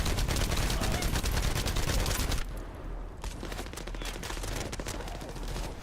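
Gunfire in the looter-shooter The First Descendant: dense, rapid automatic bursts fill the first half, a brief lull follows, then sharp shots resume at a quicker scattered pace, loud and close.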